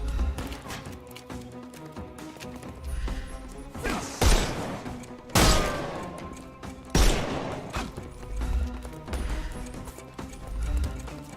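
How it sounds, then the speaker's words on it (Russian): Gunfire in the Sherlock Holmes Chapter One video game, several loud sharp shots spaced a second or two apart over a clattering, busy background. "Да, блин, уже стреляют"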